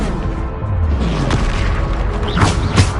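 A booming Bombarda spell blast in Hogwarts Legacy, a loud, rumbling explosion surrounded by magical whooshes and sharp combat effects in a busy fight.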